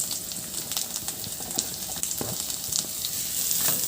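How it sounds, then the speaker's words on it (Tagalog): Garlic sautéing in a pan for a Filipino home-style dish, a steady close sizzle and crackle with small stirring scrapes, fairly quiet and continuous without talk. "igisa ko na rin yung bawang"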